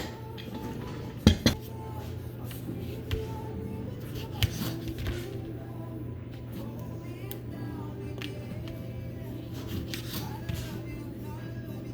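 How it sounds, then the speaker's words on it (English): A kitchen knife slices through lemons on a cutting board, giving a few sharp knocks and taps against a steady background hum, with occasional clinks of utensils and faint speech. "So I'll cut these up and squeeze them out."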